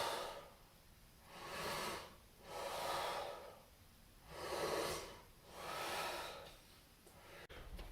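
Wim Hof breathing exercises: four slow, deep breath cycles, each a loud rushing inhale and exhale rising and falling in a steady rhythm, close to the microphone with no talking.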